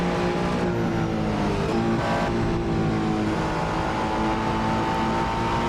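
Race car engines in the Assetto Corsa driving game roar loud and steady throughout, with shifting engine pitch as the car accelerates and holds speed, no voices.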